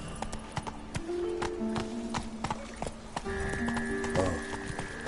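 Roach, a horse in The Witcher 3, clip-clops along in a steady hoofbeat rhythm, close and moderately loud, with brief tonal game sounds layered over the footfalls.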